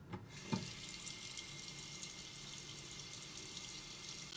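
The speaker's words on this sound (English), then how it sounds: "Time to run the water." Tap water runs into a sink for washing squishy fidget toys, a steady hissing splash after a brief clunk of the faucet opening, close and alone.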